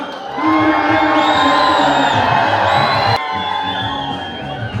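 Loud, dense crowd cheering and whooping at a temple inauguration honoring a chief minister in Mysore, a sustained roar of many voices that drops slightly in level partway through, with applause blended in.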